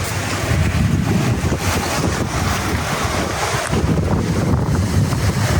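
Sea waves wash onto a deserted off-season beach at Sudak on the Crimean coast, with steady wind buffeting the microphone. A continuous, loud, broadband roar runs throughout, and no voices are heard.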